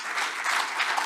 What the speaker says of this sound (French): Et je vous demande maintenant d'applaudir l'équipe d'interprètes